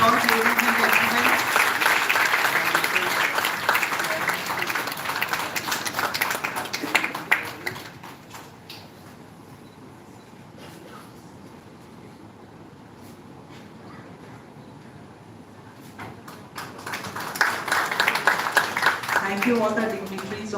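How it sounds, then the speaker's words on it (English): An audience applauds at a live bioethics session as a dignitary is welcomed to the dais. Loud, dense clapping opens the clip, dies away to near-quiet in the middle, then swells into another burst near the end. "A big round of applause, ladies and gentlemen."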